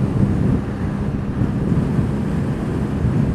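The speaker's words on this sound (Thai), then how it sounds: "โอ้ย ลมโคตรแรง" Steady, loud wind buffeting the microphone while riding a Honda PCX scooter with 17-inch wheels and an aftermarket exhaust at around 90–100 km/h; a dense low roar runs continuously with no talk.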